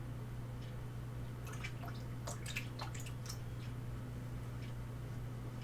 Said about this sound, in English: I wash out the brush, then I hit the sponge.